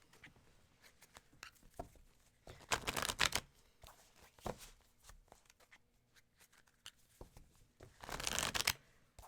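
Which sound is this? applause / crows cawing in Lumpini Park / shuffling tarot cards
shuffling tarot cards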